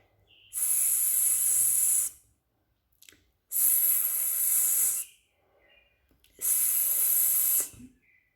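A voice imitates a snake with three long, loud hissing S sounds, each about a second and a half, separated by short pauses, demonstrating the sound of the letter S.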